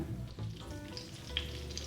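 Two tablespoons of margarine melt and sizzle in a pan for cheese ball dough, a steady soft frying crackle with faint pops throughout.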